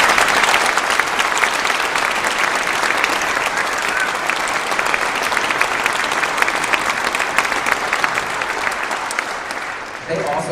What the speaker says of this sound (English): if you could join me in a round of applause for our band directors, our music teachers, our private teachers